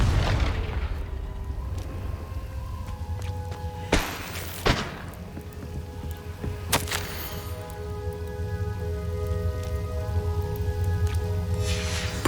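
Fire-spell blasts in Hogwarts Legacy, a sharp crack near the start followed by two loud booming impacts a few seconds apart, then a lingering crackling rumble with ringing tones over steady game ambience.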